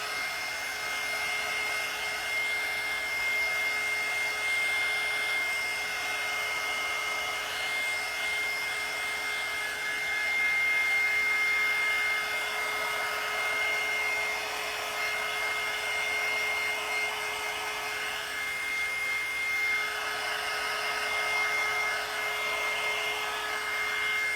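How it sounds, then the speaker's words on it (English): A hair dryer blows steadily on wet mini frames made from Christmas cards, a continuous close whooshing whine with slight swells in intensity and no talking. "Usually the dryer does this really quickly."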